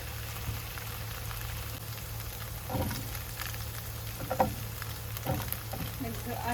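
Small shrimp with mixed vegetables, white onion and shallot sautéing in a pan, a steady sizzle and crackle with occasional spatula scrapes and stirring clatter, close and moderately loud, no talking.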